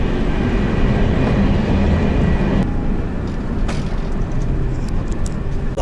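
A passenger train headed for Lyon rolls steadily along, a loud, continuous interior rumble and rattle of the carriage with faint clicks over the track and no speech.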